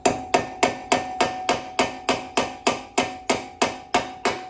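A hammer knocks brake pad pins home on an Aston Martin with fourteen sharp, evenly spaced metallic taps, close and loud, each with a faint ringing tone. No one talks.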